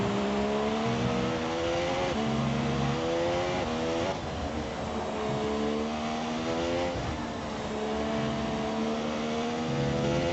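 A race car in a racing video game on the Hungary circuit accelerates and eases off through corners, its loud engine whine rising in repeated sweeping pitch climbs and dropping between them, near and continuous.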